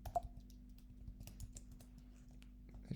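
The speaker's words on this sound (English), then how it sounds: "I will hit in my keyboard Control W O" Computer keyboard typing a shortcut: a few separate key clicks spread unevenly across a few seconds, close and fairly quiet, with faint room hum behind.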